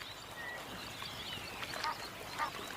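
Egyptian geese foraging on aquatic plants in a stream give a few faint honking calls over a soft outdoor background.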